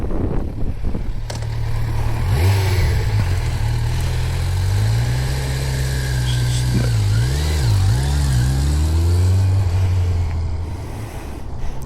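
A Kawasaki Z900 motorcycle engine idles with a deep, steady rumble, then revs and pulls away in rising and falling throttle sweeps, loud and close throughout.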